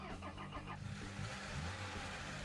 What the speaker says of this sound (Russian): у нас теперь мотор работает